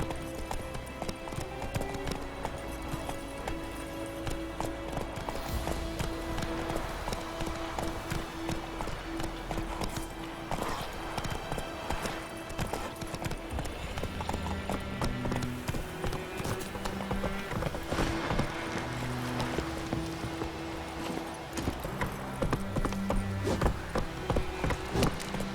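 A horse gallops in the fantasy action game The Witcher 3, with a continuous rapid clip-clop of hooves and game music underneath the whole time.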